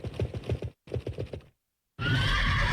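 A horse spawned from a horse lucky block in Minecraft whinnies in a quick, stuttering burst, then breaks off again with a short neigh. After a pause, a broad steady noise follows.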